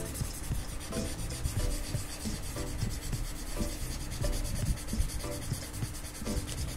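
Close, steady rubbing of a soft B graphite pencil across paper to blend shading, a continuous scratchy hiss with rhythmic back-and-forth strokes and no talking.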